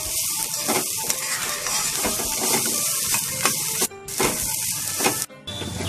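Spiced paneer pizza topping with chili powder being stirred in a hot pan, a continuous close sizzle with repeated scraping strokes of the spoon and a couple of brief sharp clanks.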